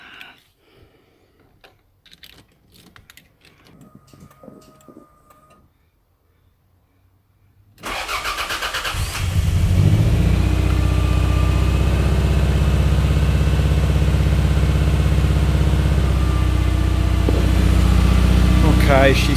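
A Toyota Celica ST185 GT-Four Group A rally car engine cranks and catches after quiet clicking, then idles loudly and steadily with a rough, uneven rumble.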